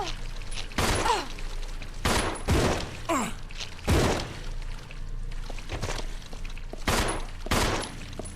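Gunshots in the survival horror game Resident Evil 0, about seven sharp, loud single shots spaced roughly a second apart over a low droning background.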